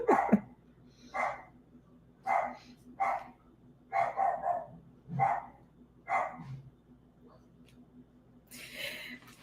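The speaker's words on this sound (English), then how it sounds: "The dog out there" A dog barks outdoors in a steady series of about eight sharp barks spaced roughly a second apart, moderately near, with a burst of other noise at the end.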